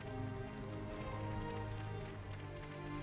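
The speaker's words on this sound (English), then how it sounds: "Whoa! Lightning! I didn't realize the sky was dark and raining." Steady rain patters across a city setting in Xenoblade Chronicles 3, a continuous wash of droplets on surfaces, moderately quiet, with no distinct thunderclap and no talking.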